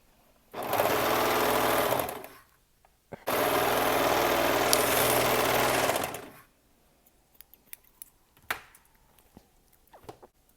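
A sewing machine runs a garment side seam in two steady bursts, about one and a half and three seconds long, then stops for quiet handling sounds and light clicks of fabric and parts.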